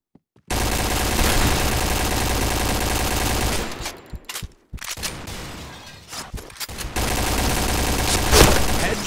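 Gunfire in a shooting video game: sustained, loud rapid automatic fire runs for several seconds, breaks off into scattered shots and bursts, then resumes as a dense continuous volley, with no talk over it.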